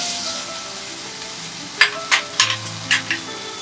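Garlic and ginger fry in a pan, giving a soft steady sizzle. Several sharp stirring scrapes and clinks cut in over the second half, with no talking.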